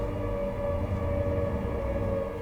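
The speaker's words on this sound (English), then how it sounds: "Sounds of sirens again" Sirens wail in the video game Silent Hill: Metamorphose, a steady droning tone held over a low rumbling bed, continuous and moderately quiet throughout with no voices.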